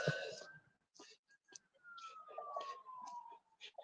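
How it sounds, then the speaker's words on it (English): A distant fire truck siren wails, its tone sliding slowly downward, faint and far off beneath soft clicks and a few quiet voices. "Nope, that's a fire truck."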